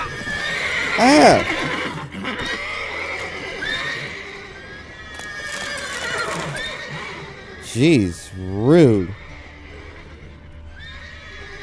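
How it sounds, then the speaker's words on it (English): Horses whinny loudly in The Witcher 3, with one neigh early and two more in close succession later, amid stable ambience and hoof clip-clops, while someone speaks briefly over the game sounds. "these horses are really getting noisy"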